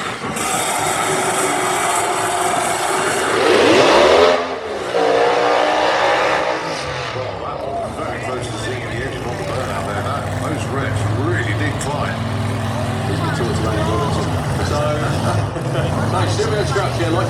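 Screw-blown methanol-fuelled Hemi drag racing engine at Santa Pod, a loud roaring blast that swells and cuts off, then a sustained rumbling drone, with crowd noise and voices throughout.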